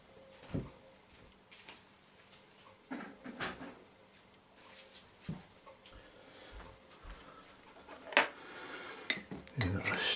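A spoon stirs a hot drink made from field ration supplies, clinking against the cup and dishes in irregular close taps, growing louder and more frequent toward the end.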